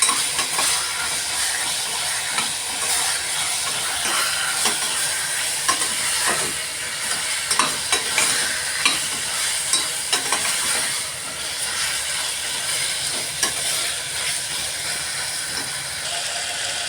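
Chicken is stirred into a tomato masala frying in a pan for chicken kulambu, giving a steady loud sizzle with repeated scraping and clicking strokes of the spoon throughout.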